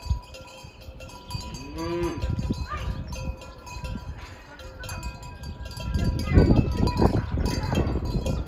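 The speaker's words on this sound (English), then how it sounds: "There's a man walking his cows." Cattle being walked along a road in Portugal low several times amid clinking bells and shuffling, with outdoor noise growing busier toward the end; no clear talking.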